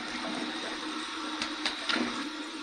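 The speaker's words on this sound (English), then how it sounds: "Here's my warm water rinse." A warm water rinse at a sink after a shave, a steady close wash of running water with a few brief splashes and knocks near the end, and no talking.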